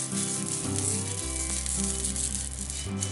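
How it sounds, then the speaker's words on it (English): Canola oil sizzling on a cast iron grill as a silicone brush bastes it, a steady hiss running continuously beneath background music. "I'm just going to dip my silicone brush, and we're going to baste it just a little bit"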